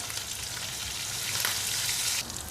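Garlic and green chilies frying in oil in a pan, a dense continuous sizzle close by with no talk, easing slightly near the end.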